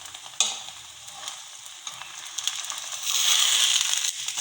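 A chickpea-filled paratha fries on a pan after oil or ghee is added, a steady hissing sizzle that swells louder near the end, with a few soft scraping stirs and one sharp knock, no voices.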